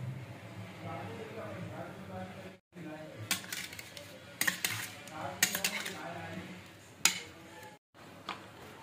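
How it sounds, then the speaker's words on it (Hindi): A spoon scrapes and clinks against a bowl as ingredients for butter paneer masala are mixed, with irregular metallic taps and stirring under quiet background sound. "तब तक फटाफट में आप जैसा देख रहे हैं मैं मिक्सिंग कर रही"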